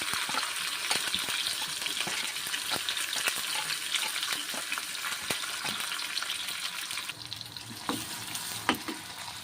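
Onions and chillies frying in hot oil with cumin and mustard seeds, a steady crackling sizzle with scattered pops and stirring scrapes, close and continuous, the texture shifting slightly near the end.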